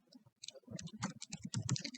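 Several sharp computer mouse clicks and light clatter while working in calibration software, close and fairly quiet, the clicks bunching more densely toward the end.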